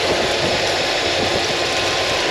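Engine of an old Ford OBS pickup truck running at idle, a steady loud low rumble with airy noise throughout, no voices over it.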